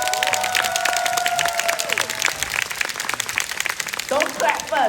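An audience in a room claps steadily through a crowded patter of hands, heard beneath someone speaking at an event.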